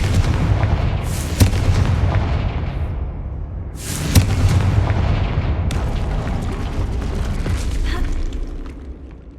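Confringo blasting spell explosions in Hogwarts Legacy, with two heavy booming blasts whose rumbling tails fade out, loud and close against a constant game background rumble.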